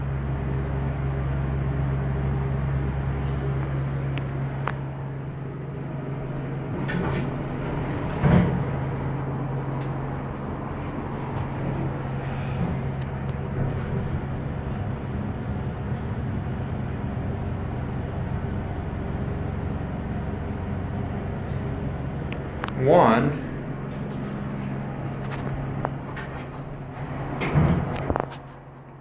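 A 1980s Dover elevator in a Tucson office building runs with a steady mechanical hum, broken by a few brief clunks and rattles as its doors open and close. A voice briefly calls out a single word.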